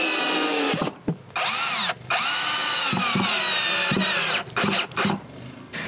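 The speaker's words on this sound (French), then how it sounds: "il faut mettre en place la caméra et visser le tout au mur du chalet" Power drill driving screws to fix a camera mount plate onto the wall of a wooden chalet beside a chimney, loud and close, in several whining bursts with short pauses between, rising and falling in pitch as the screws drive in.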